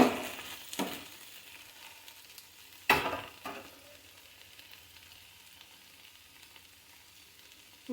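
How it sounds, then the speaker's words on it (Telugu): Ladyfinger and green chilli curry frying in a pan gives a soft, continuous sizzle, broken by two sharp scrapes or clanks of stirring early on, with no talking. "సరి కలిపేసి మళ్ళీ కొంచెం సేపు వేగనిద్దాం"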